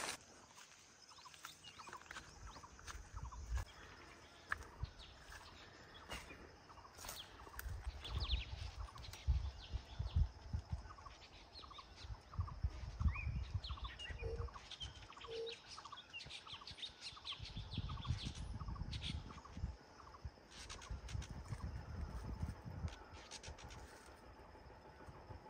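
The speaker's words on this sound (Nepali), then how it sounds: "चरालाई यति बोल्दा पनि के भाग्दैन त" Birds call with faint, scattered chirps and tweets over a low rumbling outdoor background, heard at a distance throughout.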